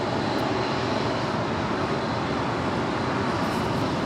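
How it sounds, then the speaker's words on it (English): A Boeing 777 jet rolling down runway 25 left for takeoff at Los Angeles International Airport, a steady loud roar of engines that fills the whole clip without any break. "we got the 777 now rolling down 25 left"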